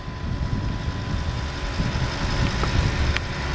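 The V10 engine of a 2008 Audi S8 idles in a low, steady rumble that stays fairly quiet and even throughout.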